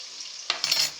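A spoon stirs through fish stew in a pot, the wet scraping and sloshing rising abruptly halfway through and continuing briefly with a faint sizzle.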